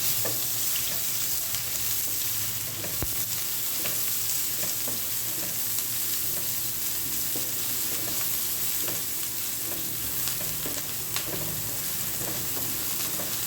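Garlic and onion frying in a pan while cooking ampalaya with tawsi, a steady loud sizzle running throughout with occasional stirring scrapes and no talk.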